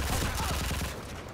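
Gunfire in Call of Duty Modern Warfare 3, a loud continuous burst of rapid shots that fills the clip and tapers slightly toward the end.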